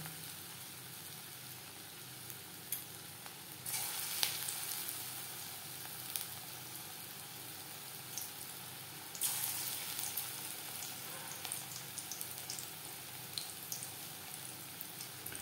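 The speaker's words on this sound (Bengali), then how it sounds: "পাকোড়া ভাজবার জন্য বেশ খানিকটা রিফাইন্ড অয়েল গরম করে নিয়েছি। এবার দিয়ে দেব পাকোড়া।" Medium-sized cabbage and onion pakoras frying in plenty of hot refined oil. A soft, continuous bubbling sizzle swells as each new batch goes in, heard alone at low volume.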